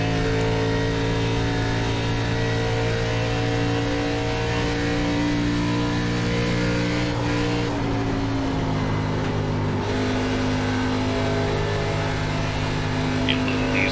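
An ARCA stock car engine in iRacing drones loud and steady as it laps Michigan, holding a constant pitch throughout with only slight shifts under throttle.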